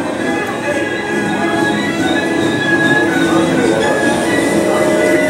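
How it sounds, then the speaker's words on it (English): Steady rumble and screech of a train moving along rails, with a continuous metallic whine, loud and close throughout. "Train station."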